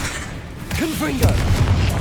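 The Confringo fire spell blasts in Hogwarts Legacy on PC: a dull, booming burst with a spell-cast swoosh over steady game ambience, and a voice heard briefly.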